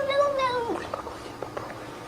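A cat gives a drawn-out, wavering meow that sounds like a plaintive "no," followed by quieter, shorter mews, close and clear.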